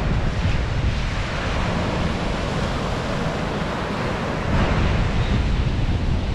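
Sea surf rolls onto a beach on a day of New Year's swimming, a loud continuous wash of breaking waves with wind buffeting the microphone and a fresh surge near the end, no voices.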